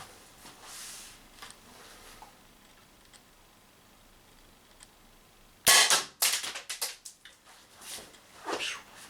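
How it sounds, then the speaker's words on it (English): A Marlin CO2 6mm revolver fires a single loud, sharp shot at a tin can, the crack ricocheting off the metal, then a few clattering, clicking handling noises follow; the moments before are quiet. "Let's try one shot at the tin can there."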